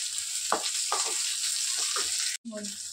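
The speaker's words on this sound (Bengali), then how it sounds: "পেঁয়াজটা ভাজা হয়ে গেছে, অনেকটা বেশি পরিমাণে ভাজা হয়েছে।" Onions frying in a pan give a loud, continuous sizzle, with a few stirring scrapes and a brief cut partway through.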